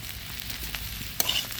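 Potatoes and ripe local tomatoes fry in a curry, a soft sizzle broken by scraping stirs of a spoon in the pan, with one sharp clink, heard close up.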